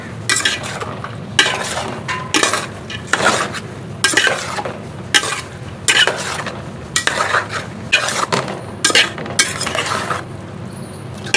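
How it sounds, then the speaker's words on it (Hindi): A spoon stirs boiled mash daal in a pot, giving a steady run of loud scraping strokes against the metal in a regular rhythm, about a dozen in all, with no talking. "इसको मिक्स कर लेंगे।"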